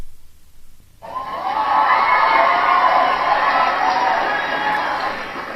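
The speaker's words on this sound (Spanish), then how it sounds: "Extrañábamos estos aplausos de los seguidores que" After a second of quiet, a crowd of studio fans bursts into loud applause mixed with cheers and shouts, holding strong for several seconds.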